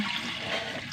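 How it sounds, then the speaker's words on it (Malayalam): Water being poured into a pressure cooker of dal, a continuous gushing, splashing rush heard close up for about a second. "കുറച്ച് വെള്ളം ഒഴിക്കുക"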